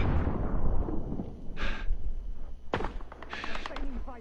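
Gunfire and explosive bursts in the online shooter Call of Duty Warzone, a dense rumbling volley up front followed by a few sharp separate shots, with a voice speaking over parts of it.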